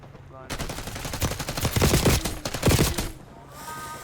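Rapid automatic gunfire from Call of Duty Warzone rattles in dense, loud bursts for about two and a half seconds, then stops abruptly.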